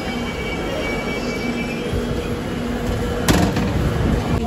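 A metro train rolls into a station with a loud, steady rumble of wheels on rails, a high squeal from the wheels, and a sharp clank partway through.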